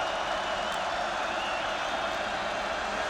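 A large stadium crowd roars in a steady, broad wash at an NDSU versus Northern Iowa college football game as Northern Iowa faces third and nine, distant and continuous with no distinct voices.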